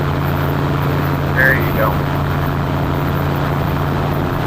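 A floatplane engine runs steadily at about 4,300 rpm, a constant droning hum under a brief spoken voice.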